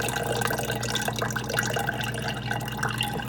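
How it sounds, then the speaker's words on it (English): Buttermilk poured off freshly churned homemade butter, a steady close liquid trickle and splash with faint drips over a low background hum. "Now, I'm pouring the buttermilk off the butter."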